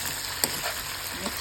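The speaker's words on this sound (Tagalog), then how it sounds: "Yan, haluin ang haluin hanggang sa manunuot yung ating sahog sa karne." Chicken estofado meat is stirred with its seasonings in a pan, giving a short burst of sizzling with one sharp scrape of the spoon.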